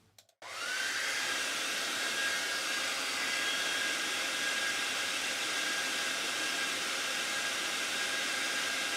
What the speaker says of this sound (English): I'm going to turn a hairdryer on it